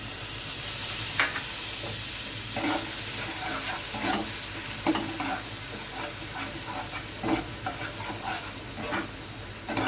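Spice paste sizzling in butter alongside whole garam masala, stirred with a metal spatula, a constant frying hiss broken by repeated scraping and knocking strokes at an uneven pace.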